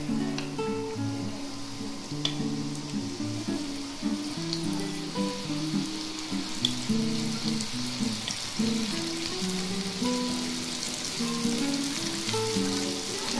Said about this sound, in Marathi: आता आपल्याला तेल आपलं व्यवस्थित गरम झालंय, त्यात आपल्याला हा एक एक पीस सोडून द्यायचा आहे